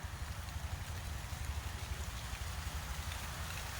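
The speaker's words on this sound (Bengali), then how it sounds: "ছাগলগুলো দৌড়িয়ে পালাইয়ে গেল বৃষ্টি শুরু হয়েছে" Rain begins to fall in a garden with lemon trees where goats are kept, a faint, soft hiss of drops over a low, uneven rumble.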